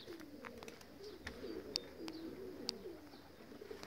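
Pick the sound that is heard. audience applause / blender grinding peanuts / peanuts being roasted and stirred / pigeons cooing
pigeons cooing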